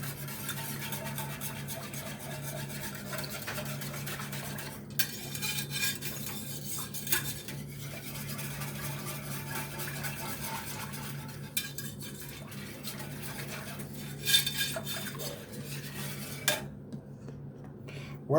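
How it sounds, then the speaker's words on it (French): A whisk scrapes steadily around the bottom of a sauté pan to loosen stuck cooking residue, producing continuous close metallic rasping and stirring with occasional sharper clinks against the pan. "Là, à l'aide du fouet, on va décoller un peu ce qu'il y a au fond"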